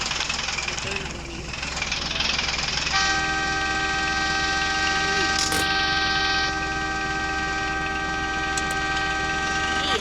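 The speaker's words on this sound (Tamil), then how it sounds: "ஹார்ன் அடிச்சுட்டே இருக்கு காய்ஸ்." A sustained, multi-tone video game train horn blares steadily for several seconds over a low engine rumble, with a brief clunk partway through.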